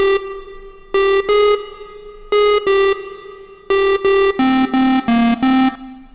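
A bright, buzzy square-wave synth lead made in Serum plays a short melody of staccato notes in clusters, rising and dipping in pitch, loud and alone.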